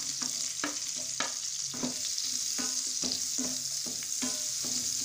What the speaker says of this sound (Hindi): अब इसमें हम डाल देंगे प्याज